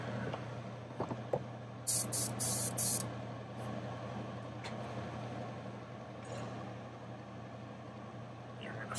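An airbrush sprays Wicked white paint onto a Rock Bass crankbait in a few short hissing bursts early on, over a steady low background hum.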